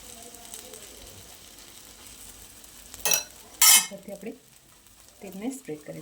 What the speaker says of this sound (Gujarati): તેલને સ્પ્રેડ કરી લઈશું.